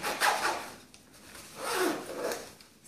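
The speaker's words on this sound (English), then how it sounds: "And then it zips right back up." The zipper on an Osprey Rev 1.5L hydration pack closes in two quick, close rasping pulls separated by a short pause, with no talk.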